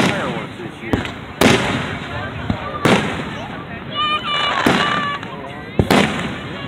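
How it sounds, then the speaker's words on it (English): Repeated fireworks bursts in Flint, Michigan, several sharp booms a second or so apart, with crackling and whistling trails between them and people talking in the background. "She got cool fireworks this year."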